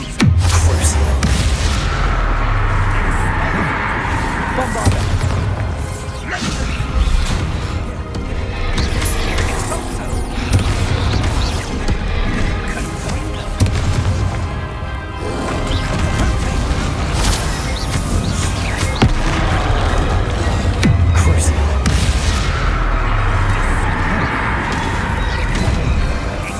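Repeated Bombarda spell explosions in the Hogwarts Legacy video game boom and crash in heavy, dense bursts throughout, layered over loud battle effects with no pause.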